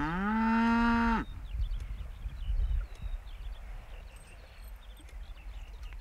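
A cow lets out one loud, close moo lasting just over a second, followed by quieter farmyard ambience with faint rustling and distant thuds.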